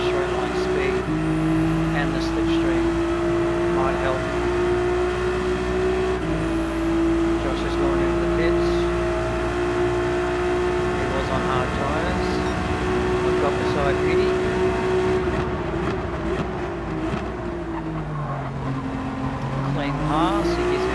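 A Ferrari race car in a racing video game howls at high revs down a straight, a loud, steady engine drone with gear shifts and small pitch steps, joined later by other cars close behind.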